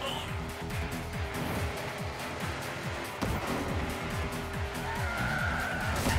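A race car drifting and skidding in the arcade game Hot Shot Racing, a constant engine whine with repeated rising gear-change sweeps and sustained tire squeal, loud and close, with no talk.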